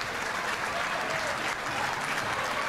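A boxing crowd applauds at an amateur bout, steady dense clapping heard from amid the audience for a few seconds.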